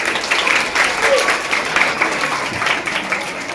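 An audience clapping at a public nutrition-campaign event in Belagavi, a brief burst of close, lively group applause with some voices mixed in.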